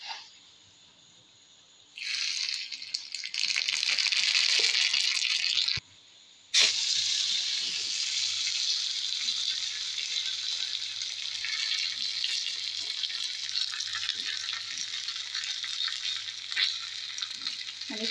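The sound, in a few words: mustard seeds sizzling in hot oil for tempering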